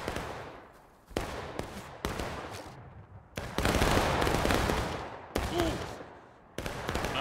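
Musket fire rings out in War of Rights, a series of sharp, loud reports spaced irregularly across the scene, some single cracks and some overlapping volleys, each trailing off in a long echoing decay.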